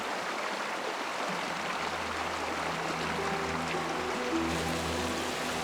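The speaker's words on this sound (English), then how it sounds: "The sound of water brushing against the rocks feels like it's dividing time into droplets one by one." Water of a mountain stream washing over rocks, a steady close rushing and trickling flow that continues without a break, with no voices.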